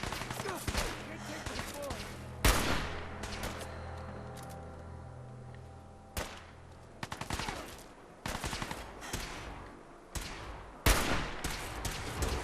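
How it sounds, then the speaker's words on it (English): Sniper rifle and other gunfire in Fallout 4, with sharp loud shots at irregular intervals alongside bursts of rapid fire, and someone talking in between. "You missed with the sniper rifle"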